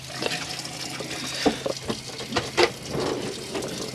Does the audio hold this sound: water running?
yes